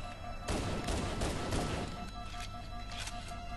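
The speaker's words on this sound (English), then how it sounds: "I'm using my anti-Banshee pistol" Pistol shots fired at a Banshee in the video game Halo Anniversary, a quick cluster of sharp reports with a steady hum of game sound beneath, close and moderately loud.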